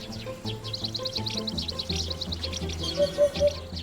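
Busy chirping from a flock of sparrows in China, rapid overlapping tweets over a low steady hum.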